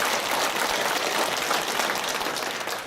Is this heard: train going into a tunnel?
no